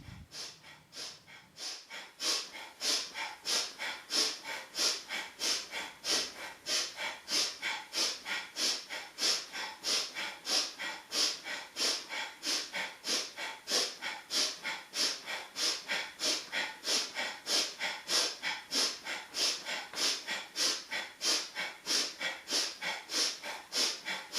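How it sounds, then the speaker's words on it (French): Rhythmic breathing during a kundalini yoga exercise: rapid, steady breaths pumping continuously at about two per second, close and fairly quiet, with no talk over it. "C'est la respiration qui est le moteur du mouvement."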